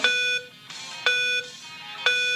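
A workout interval timer sounds three evenly spaced electronic beeps about a second apart, clear and fairly close, with no talk.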